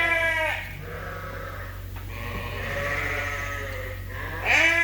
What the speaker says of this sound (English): There's always sheep that lay under the feeders.